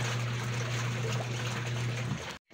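Water runs steadily from a pipe supplying a household kitchen, a close, continuous trickling stream over a low steady hum that stops abruptly just before the end.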